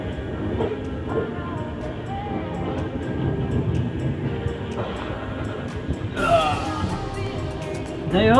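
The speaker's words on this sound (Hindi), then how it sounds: "सुबह के 6:20 पे हमारी ट्रेन अराइवल हो रही है" The Rajendra Nagar Godda Weekly Express pulls into Godda station, a low rolling rumble of the arriving train with rising squeals and clanks near the end.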